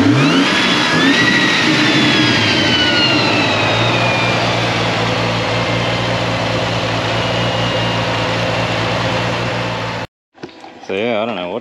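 Turbocharged car engine with a smoking turbo, fitted with a Turbosmart oil pressure restrictor, running loud and close: it revs at the start, settles into a steady rumbling drone, then cuts off abruptly and a voice speaks briefly.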